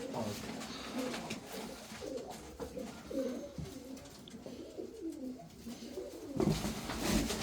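Racing pigeons coo softly in a low, murmuring chorus, with scattered rustling and a louder burst of activity near the end.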